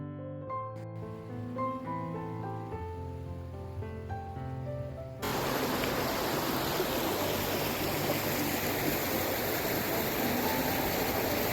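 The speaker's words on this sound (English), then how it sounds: "This river flows from the mountain. This is the Hiranyakeshi river flowing" Hiranyakeshi river flowing down from the mountain near Gautanwadi, Amboli, a steady broadband rush of water that swells loudly after about five seconds, following a stretch of soft tonal music.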